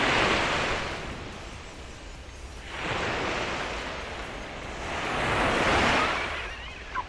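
Sea waves roll onto East Coast Beach in Singapore, three broad surges of surf rising and falling in slow rhythm under steady wind, no voices.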